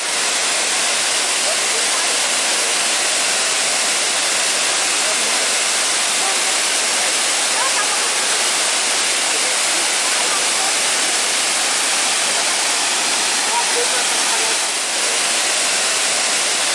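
The Poço do Diabo waterfall in Chapada Diamantina, Lençóis, Bahia, roars as a loud, steady, unbroken rush of falling water that fills the whole scene from start to finish.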